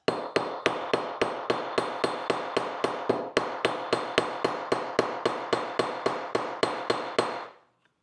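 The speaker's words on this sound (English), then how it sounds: "I want these a little bit more flat" Steady, evenly spaced hammer blows flattening rivets, about twenty sharp metallic strikes in a row, close and loud, ending with a short ringing fade.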